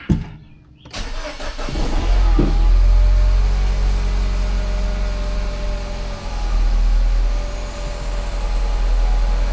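A 2011 Mini Cooper S turbo engine cranks and fires after a brief clatter, then settles into a loud, close, steady idle with a rough, uneven undertone, some slight dips in level, and no talking.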